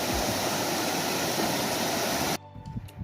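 Steady, dense roar of rushing mountain water on the Chairback Mountain trail, close and loud, filling the air continuously before cutting abruptly to a much quieter background.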